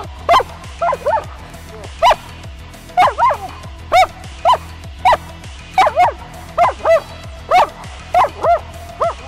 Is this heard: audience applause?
no